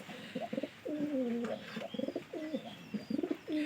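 Rajshahi Giribaz pigeons coo close by in a series of soft, repeated throaty phrases with short pauses between them, set against a quiet indoor background.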